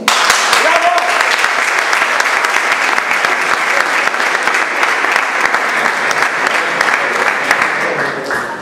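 A crowd at a rondalla gathering in Puntallana bursts into loud, dense applause that holds steady for several seconds before easing slightly at the end.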